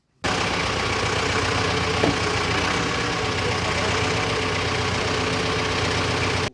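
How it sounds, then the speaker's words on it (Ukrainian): A new municipal multifunctional tractor engine runs steadily at a constant, loud broadband drone throughout, with no talk. "Це і сучасні багатофункціональні трактори і засоби малої механізації."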